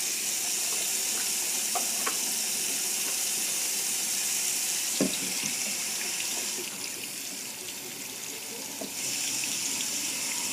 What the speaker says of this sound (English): So what I do is I run cool water.